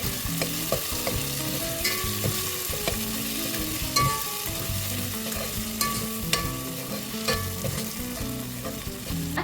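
Coriander-cumin powder and spices sautéing in hot oil for korma biryani, a steady busy sizzle with frequent stirring scrapes and spoon clinks throughout, close and fairly loud, no talking.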